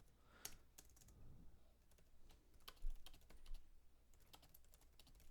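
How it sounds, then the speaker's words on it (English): Typing on a computer keyboard at a desk, heard as quick, uneven bursts of light key clicks with short pauses and a couple of louder key strikes, close and fairly quiet, with no talking. "Typing while recording, always way worse than not."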